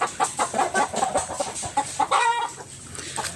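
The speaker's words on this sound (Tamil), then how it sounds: "இங்கே பாருங்கள் நிறைய கோழி ஓடுது" Village chickens clucking and calling repeatedly at close range in a rural Tamil Nadu farmyard, busy overlapping bursts with no talking.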